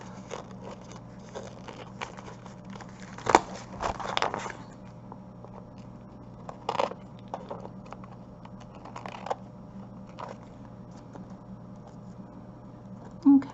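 Scattered crisp scissor snips and paper rustles at close range while trimming paper for decoupage, irregular and spaced out, over a faint steady background hum.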